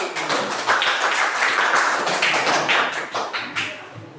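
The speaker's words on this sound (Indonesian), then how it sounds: "Tepuk tangan sekali lagi" A classroom group in an Indonesian school claps together, a steady, dense patter of many hands lasting about four seconds before thinning slightly at the end, with no talking over it.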